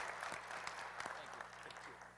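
Quiet applause for scholar athletes at a school board meeting, a thin patter of a modest group clapping in a room, heard faintly with a low hum and some murmur underneath.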